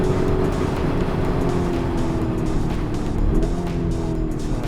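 Lamborghini Urus Performante SUV running hard on a race circuit, a steady loud engine drone with shifting harmonics sustained throughout, no pauses or voices.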